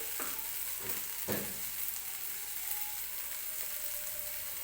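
Onion fries in oil in a pan with a bright continuous sizzle, and a few short stirring scrapes come early on, close and steady without voices.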